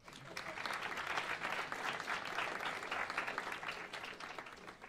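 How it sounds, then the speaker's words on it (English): A conference audience gives a round of applause, a dense, steady ovation of many hands that holds at an even level throughout. "I believe that deserves a round of applause by itself."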